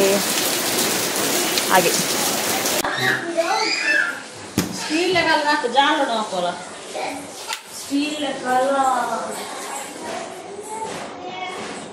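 Steady rain hisses loudly at first, then continues more softly beneath a person talking close by.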